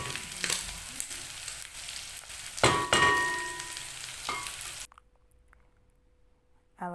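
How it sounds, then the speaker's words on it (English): Onions fry in a pan while cooking cow tripe (matumbo), giving a dense, close sizzle broken by stirring clatters and scrapes, then falling quiet before a final brief clatter. "We are frying our onions until they turn golden brown."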